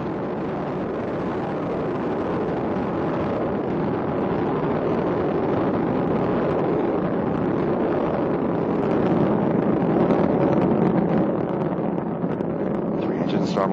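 Space Shuttle Endeavour on mission STS-126 climbing away from Kennedy Space Center, its three main engines throttled back near maximum aerodynamic pressure: a constant, heavy, crackling roar that fills the whole stretch, loud and unbroken.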